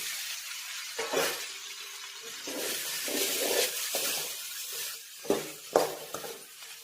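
Fried tomato and potato tipped into hot oil and stirred, giving a steady broad sizzle with a few sharp spoon-on-pan clinks and scrapes near the end, close and moderately loud with no talking.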